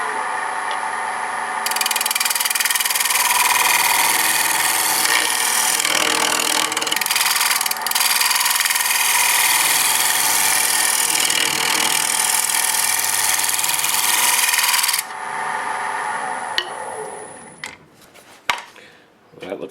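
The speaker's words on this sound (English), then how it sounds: "I'm just going to go right with the scraper and see if I can get this nice and flat" A hand scraper works across a maple wood surface to flatten it, giving a steady, continuous rasping hiss for about fifteen seconds, then a few sharp knocks and handling sounds as the work stops.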